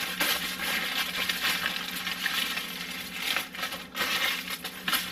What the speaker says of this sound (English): I'm going to wrap that cheese in this foil.